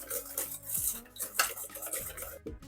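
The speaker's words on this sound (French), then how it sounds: "on va déjà se mélanger les jaunes avec 100 g de sucre" Egg yolks beaten with sugar in a bowl for a three-milk cake, steady rhythmic scraping and clinking of a utensil against the bowl, close and alone.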